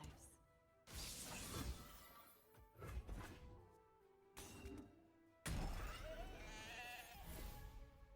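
Sheep-like bleats from a video game character ring out in several bursts amid crashing, shattering game effects, fairly faint overall.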